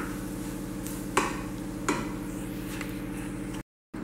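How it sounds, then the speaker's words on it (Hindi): Stirring corn flour roasting in a pan, a steady soft scraping texture over a low continuous hum, with two sharper spoon-on-pan knocks, then a brief dropout near the end. "और इसको हम इस तरह से लगातार चलाते रहेंगे।"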